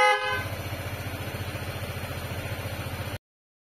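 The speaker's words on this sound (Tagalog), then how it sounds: "isa pang busina." Loud aftermarket horn on a QJ Motor ATR 160 motorcycle gives a short two-tone blare, then a steady buzzing drone pulses rapidly for about three seconds before cutting off sharply.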